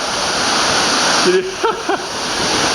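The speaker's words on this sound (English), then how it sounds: "We're at level 3 of these falls now" A tiered waterfall in Kanchanaburi, Thailand roars loudly and steadily nearby as a broad rushing wash of water, with a brief voice-like sound partway through.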